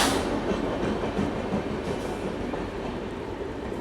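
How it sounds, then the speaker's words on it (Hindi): The Amritsar Mumbai Express, train 11058, rolls into a station with a steady, close rumble and clatter of wheels and carriages that slowly eases off, with no voices. "ये तो अपनी ही ट्रेन है। Train number 11058 Amritsar Mumbai express"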